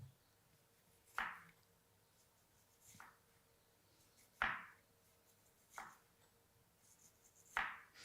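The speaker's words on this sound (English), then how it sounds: "And I'll also have the red onion. We're going to cut it into rings." Knife slicing a red onion into rings on a board, with five sharp, separate cuts spaced about a second apart, quiet and close with no talking.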